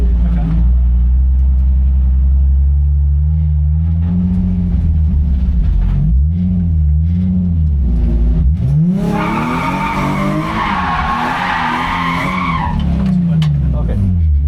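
Drift car revved with too much throttle, engine rising and falling in repeated surges before a loud burst of tire squeal, with a voice talking over it.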